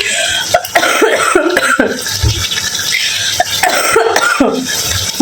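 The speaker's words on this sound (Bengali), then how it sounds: "কাশি যে আমার কবে কমবে।" A person coughs repeatedly at close range, several harsh bursts and throat clearing spread across the few seconds, with faint kitchen noises in the background.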